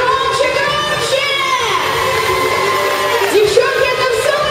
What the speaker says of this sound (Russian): Сейчас должны прозвучать бурные аплодисменты нашим участницам. А громче, громче!